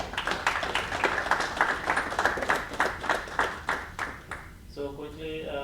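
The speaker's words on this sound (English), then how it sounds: "So please give a big hand of applause for them." A tech meetup crowd at an Austin big data and AI gathering claps for the sponsors, a steady patter of distinct hand claps that fades after about four seconds, and then a voice starts speaking.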